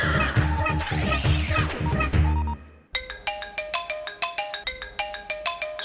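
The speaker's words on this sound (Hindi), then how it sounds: "इस फोन की घंटी दे, मेरी घंटी बजा दी।" A phone ringtone plays loudly and close, first a dense melodic burst, then after a brief pause a repeating electronic ring pattern of regular tone pulses.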